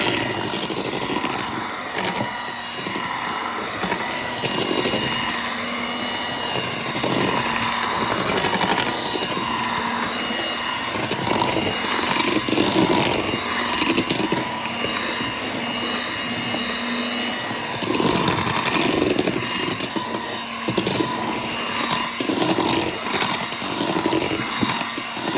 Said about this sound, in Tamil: மிக்ஸ் பண்ணி கொண்டிருக்கிறோம்.